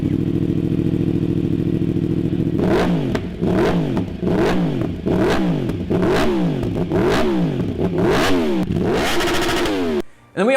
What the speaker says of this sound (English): this is a sound clip with the Leo Vinci exhaust